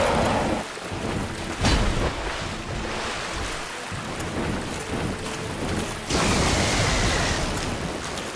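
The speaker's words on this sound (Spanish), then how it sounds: "Como que ondas expansivas de trueno" Thunder crashes in Dark Souls during the Sanctuary Guardian boss fight, heard as loud, dense roaring bursts that surge and fade over several seconds, with no speech.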